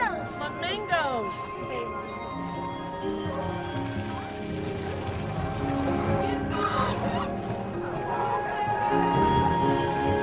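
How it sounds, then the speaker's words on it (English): A flock of flamingos honks and calls on a family cruise outing, with busy overlapping goose-like cries throughout and people talking over the birds. "A lot of birds. Flamingos."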